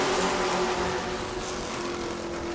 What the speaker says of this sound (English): as we go back under green flag racing with 10 laps to go